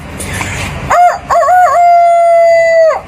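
A voice imitates a rooster's crow, a short rising call followed by one long, sustained, wavering note, loud and close, with no other talk around it.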